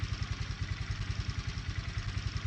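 A Sodi SR4/5 rental kart engine in Assetto Corsa runs at a steady, rapid pulsing chug, loud and close, with no voices over it.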